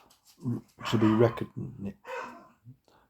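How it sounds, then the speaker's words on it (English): Dogs bark and yelp in a short burst of several uneven calls, fairly close, with someone talking over and between them. "Dogs were on duty calling me."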